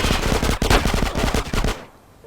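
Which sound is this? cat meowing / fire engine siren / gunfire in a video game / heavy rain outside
gunfire in a video game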